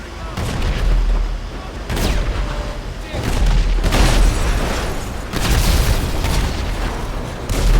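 Loud booming blasts roll through a GTA 5 battle at a military base with tanks, several heavy explosions and bursts of gunfire overlapping in a continuous, dense wall of noise.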